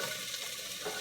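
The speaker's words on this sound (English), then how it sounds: "And then we're going to put in the onions from our vegetable medley." Onions sizzle steadily as they are sautéed in a hot pot for ham and bean soup, a close, continuous hiss with no voices.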